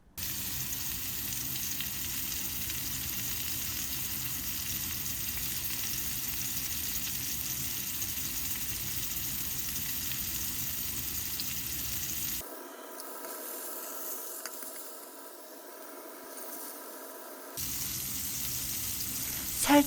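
Steak sears in a pan over the highest heat, giving a steady, close hiss and sizzle with a softer, thinner stretch near the end before the full sizzle returns.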